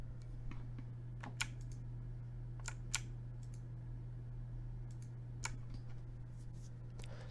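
Quiet computer keyboard and mouse clicks while working in SolidWorks, with scattered light taps and clicks over a steady low electrical hum.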